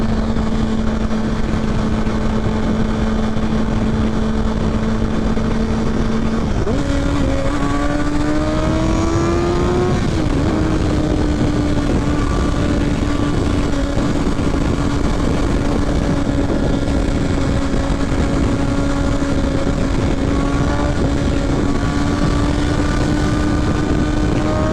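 A 2023 Kawasaki Ninja ZX6R sport bike engine droning steadily on the road, then rising in pitch as it pulls harder after a downshift, with heavy wind rush throughout.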